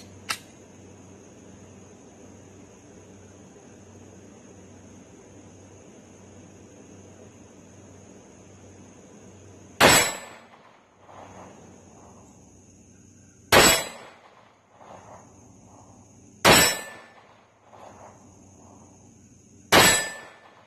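Tisas Zigana PX9 pistol fired at an outdoor range: one shot at the very start, then after a long quiet gap four sharp, loud reports spaced a few seconds apart, each with a short ringing tail.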